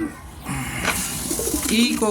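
Soft pigeon cooing, low and repeated, mixed with a voice talking nearby and some background rustle.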